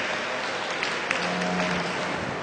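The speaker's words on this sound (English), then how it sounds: "I think these youths deserve a great round of applause" Audience applause at a Brown Swiss cattle show, a steady dense wash of clapping from a crowd that holds evenly throughout, with no voices over it.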